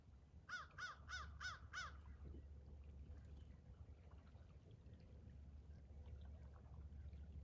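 Crows caw by a river in the morning: five quick loud caws in a row, followed by fainter scattered bird calls over a steady low rumble of water and outdoor ambience.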